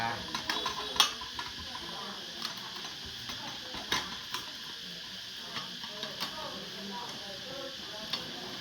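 Metal cooking pots clink and knock lightly during unboxing, with scattered short clanks and rattles over a faint background.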